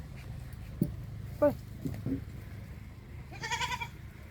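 Farm goats let out a few short, scattered bleats, then a louder, longer call near the end, heard at moderate distance against a low background hum with faint voices.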